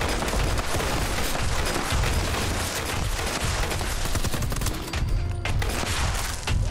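A powerful weapon fires in Fallout 76, a dense, continuous barrage of heavy, rapid shots and impacts, loud and close throughout, with no voices.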